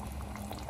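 A cooking pot of chopped herbs with oil simmering at a steady boil, a continuous close bubbling and gurgling with no voices over it.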